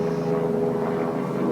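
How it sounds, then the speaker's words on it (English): An airplane flies overhead as a faint, steady engine drone that holds evenly for a moment. "That's a plane."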